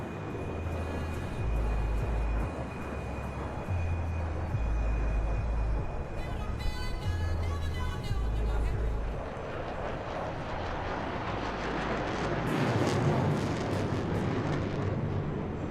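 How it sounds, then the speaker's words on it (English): Fighter jet flown by a group captain through a low-speed 360-degree turn at the Aero India 2021 airshow, Yelahanka air force station: a steady, loud engine roar that swells and fades, with rumbling low end and some commentary beneath. "Group Captain Antil is now demonstrating the low-speed turn capability of this marvelous aircraft, turning through 360 degrees"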